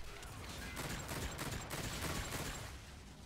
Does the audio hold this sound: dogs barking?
no